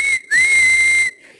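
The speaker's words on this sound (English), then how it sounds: "that sounded like Percy's whistle" A steam engine's whistle from Thomas and Friends gives a brief toot, pauses, then sounds one longer, loud, steady blast that cuts off sharply, with no voices.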